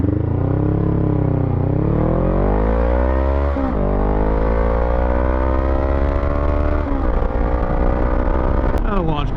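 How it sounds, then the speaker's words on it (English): A Honda Rebel 500 motorcycle accelerating hard from a standstill toward 60 mph, loud close engine whine climbing in pitch through several gear shifts, each shift dropping the revs briefly before rising again, with wind noise throughout. "I don't think I've done a 0 to 60 on this bike yet."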